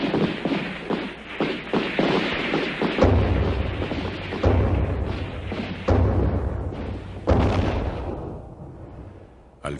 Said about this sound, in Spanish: Inmediatamente suena un disparo